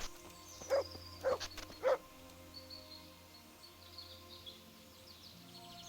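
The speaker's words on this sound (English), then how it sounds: "You can hear dogs." Dogs bark in the video game Kingdom Come: Deliverance: three short, faint barks about half a second apart in the distance, over a quiet outdoor ambience that continues after they stop.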